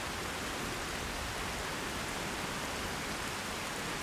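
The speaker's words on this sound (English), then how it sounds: "it is pouring down rain here in Whiterun." Pouring rain falling in the city of Whiterun in the video game Skyrim, a steady dense hiss of rainfall with no breaks and no speech.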